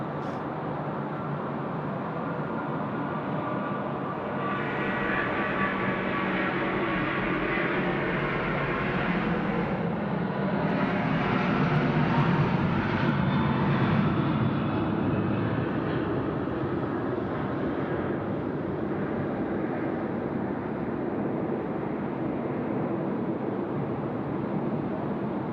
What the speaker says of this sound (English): Emirates rolling now, the 380.